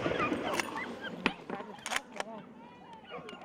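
Hunting dogs yelp and bark in bursts while chasing a wild boar through dense vegetation during a Spanish montería, fairly faint and distant, with short excited cries and whimpers over rustling.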